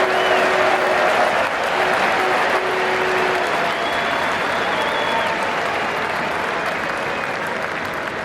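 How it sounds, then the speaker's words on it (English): A stadium crowd at a cricket Test match lets out a big sustained cheer and applause after a spinner's delivery, loud and continuous throughout, with faint commentary speech underneath. "Big cheer goes up."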